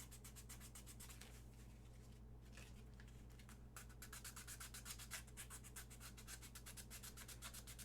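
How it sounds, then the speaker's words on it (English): Rapid rhythmic rasping of sandpaper on a small model part for a tank trooper costume build, close and steady, quiet throughout with no speech. "Man, there's a lot of sanding."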